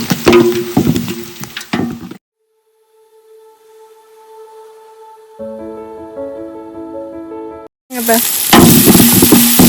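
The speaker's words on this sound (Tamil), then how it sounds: "100 கிராம் ஆனியன், பச்சை மிளகாய். நல்லா ஆனியன் கோல்டன் ப்ரௌன் வர வரைக்கும் நல்லா ஃப்ரை பண்ணணும்." Onions and green chillies fry in hot oil for a mushroom biryani, a loud broadband sizzle at the start and again at the end, with a quiet stretch of steady tones in between.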